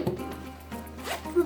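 A zipper on a small first-aid pouch is pulled open in a few short rasping bursts, close and fairly quiet, with a brief voiced sound near the end.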